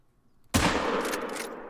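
A single loud rifle shot from a 45-70 Coachmate while hunting jackals in Africa in the video game Call of the Wild, ringing out sharply after near silence and echoing away over the next second.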